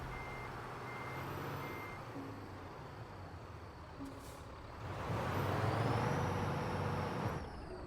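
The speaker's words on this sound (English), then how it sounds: "So we're going to back it up and we're going to line it up proper like." A truck with a trailer backs up, its reversing alarm beeping in a slow, regular series over a steady diesel engine idle, which grows louder and rougher partway through as the rig moves, with a brief air-brake hiss.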